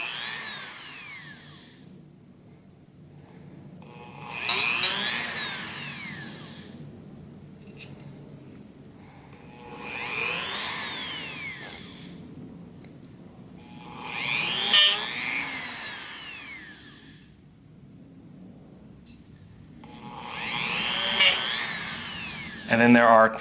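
A small power drill bores out holes in a printed part for a Connor Hidden Blade prop, whining in four or five separate bursts a few seconds apart, with quiet gaps between.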